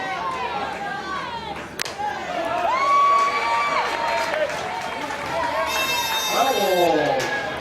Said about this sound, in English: Great crowd here today